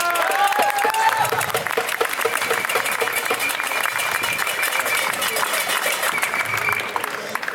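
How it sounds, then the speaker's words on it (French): Loud, sustained applause from a crowd at a public meeting, a thick continuous clatter of many hands with a few voices and whistles mixed in near the start. "Donc on les applaudit, s'il vous plaît."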